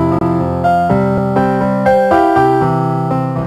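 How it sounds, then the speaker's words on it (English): Brain music tones generated from a relaxed brain's EEG: a sequence of soft, piano-like synthesized notes at irregular intervals, steady and fairly loud, with no speech. "And this is the sound of a brain happy without thought or care."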